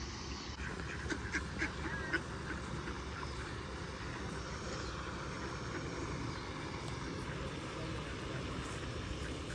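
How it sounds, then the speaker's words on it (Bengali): Ducks roam freely by the water, a few faint quacks in the opening seconds, then a steady low rumble like a passing aircraft for the rest, with no talk. "এখানে হাঁসগুলো একদম হেঁটে চলে বেড়ায়"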